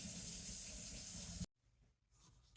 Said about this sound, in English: As soon as you're done with your knife and cutting board, get it in the sink, get water on it, wash it right away